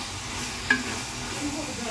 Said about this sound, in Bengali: আগে ফ্রাইড রাইসটা রান্না করবো